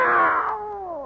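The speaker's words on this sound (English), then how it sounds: "It's a cat, Miss Brooks." A cat gives a single drawn-out meow, loud and close, its pitch sliding downward as it fades.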